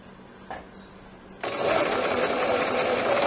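A sewing machine stitches the hem of a shirt sleeve, starting after a faint tap and then running in a steady, close, continuous whir until the end.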